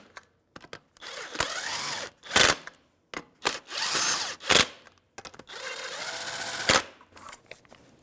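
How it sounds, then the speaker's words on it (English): A power tool driving a 19 mm socket to snug up wheel nuts on a 1996-2006 Jeep Wrangler, heard as several short, loud whirring bursts with brief gaps between them, close by. "That's a 19 millimeter socket, and we're gonna just snug it up."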